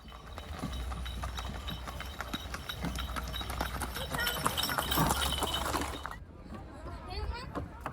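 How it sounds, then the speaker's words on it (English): Hooves of a rented horse cart clip-clopping along a forest track in Alas Purwo national park near Banyuwangi, East Java, a brisk steady trot close by with voices in the background, before the sound cuts off near the end. "Horse carts can be rented to take a ride through the forest."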